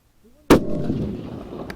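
A single loud, close gunshot from a 6.5 Creedmoor centerfire rifle, a sharp boom followed by a decaying rumble and echo.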